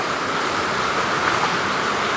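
Strong floodwater rushes into a garage during a heavy flood, a steady, loud roar of churning water that fills the whole moment without a break.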